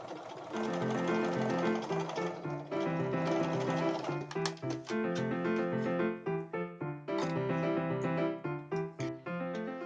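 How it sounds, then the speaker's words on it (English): A sewing machine runs steadily as the yoke is stitched to a gathered bodice front for a costume, with a loud, dense mechanical hum and a quick rhythmic ticking that carries on with brief pauses and restarts. "I machined the yoke to the bodice front, carefully stitching over the gathered sections"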